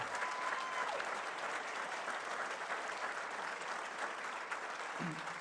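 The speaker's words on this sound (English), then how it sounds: "let's have a big round of applause for all the candidates for being here" An audience claps for candidates at a gubernatorial debate, a steady, even roar of applause with a brief voice at the start and near the end.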